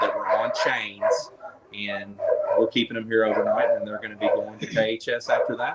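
Several rescued dogs from a breeding and hoarding case in Spencer County bark and yip in the background of a shelter, steady and mid-distance beneath continuous close talking.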